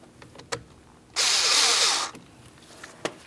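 A single continuous whirring burst of about a second from a powered driver starting a T8 Torx screw into a steering column combination switch on a 2015-2025 Ford Transit 250, with faint clicks before and after.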